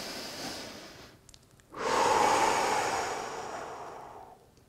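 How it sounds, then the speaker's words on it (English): A slow, long breath drawn and released during an isometric yoga workout, a steady airy rush that swells and then fades over a few seconds, close and alone with no talking. "Let's sit here for a good long breath."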